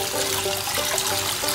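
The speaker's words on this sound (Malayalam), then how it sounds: "ഇനി ഇതിലേക്ക് കുറച്ച് ടാപ്പ് വാട്ടർ ഊറ്റി കൊടുക്കണം." Tap water runs steadily over drained, cooked ada rice flakes while preparing ada pradhaman, a continuous close trickle and splash with no talking.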